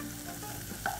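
Four large garlic cloves sizzling in a heated pan with a little oil, a dense steady crackle and hiss with a brief louder burst near the end, close and alone.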